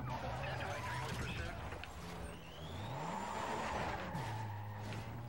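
Engine drone and skidding tires from cars racing in Need for Speed: Most Wanted, a steady loud engine tone rising and falling in pitch with tire squeal, with police pursuit action and someone talking over it throughout.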